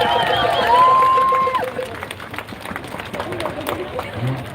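A crowd at a climate strike rally in Toronto breaks into applause and cheering, a loud wash of clapping that fades to scattered claps and crowd murmur.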